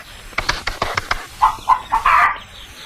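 Several hens cluck in short, close bursts, a quick run of clucks rising into louder drawn-out calls, with a faint flutter of movement.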